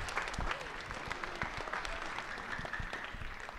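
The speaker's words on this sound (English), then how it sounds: "give everybody a round of applause" An audience claps steadily for a few seconds at a live-streamed FASD event, a moderately distant round of applause with no talking over it.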